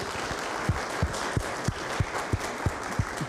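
Audience applause at a Safe Streets community meeting, a sustained wash of many hands clapping with a few sharper individual claps standing out in a steady rhythm.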